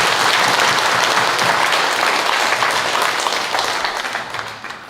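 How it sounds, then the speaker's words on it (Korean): A church congregation breaks into loud, continuous applause that gradually tapers off toward the end, many hands clapping together in a reverberant hall. "우리 하나님께 더 큰 감사와 찬송의 박수를 올려드리겠습니다"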